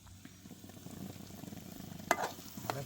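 Onion fries in oil in a pan on a gas stove as part of a village-style crab recipe, giving a soft, steady sizzle with a few sharper crackles and stirring scrapes near the end.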